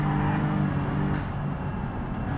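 A car in the BeamNG video game drives and drifts, its engine droning at a steady moderate level with a slight rise midway, close and fairly quiet, no talk over it.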